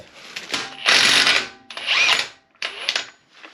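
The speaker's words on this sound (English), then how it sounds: "So this is a 32mm socket, which I had to order separately, specifically for this. So with my impact, I'm just gonna impact it off." Impact wrench with a 32mm socket loosening the front axle nut on a 2017+ Subaru Impreza or Crosstrek, three loud close bursts of rattling hammering with short pauses between them.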